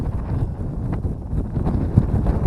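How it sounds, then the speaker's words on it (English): Strong wind at a pond buffets the microphone in a low, rumbling roar with uneven gusts throughout, with no other sound standing out. "Woo, that wind's ripping!"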